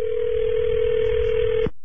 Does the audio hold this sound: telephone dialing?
yes